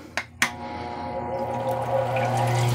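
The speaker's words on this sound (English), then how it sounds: "let's get the water going" Water starts running on a stone-cutting machine, a steady rushing and trickling flow that grows fuller over a low machine hum after a couple of sharp clicks.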